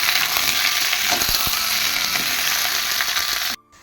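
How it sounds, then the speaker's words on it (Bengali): A pot of curry sizzles and fries over a gas stove, a steady close hiss with faint stirring clicks running for about three and a half seconds before cutting off into near silence. "রান্নাটা বসিয়ে রয়েছে গ্যাসে রান্না করছি ভাত হয়ে গেছে তরকারিটা বসিয়েছি"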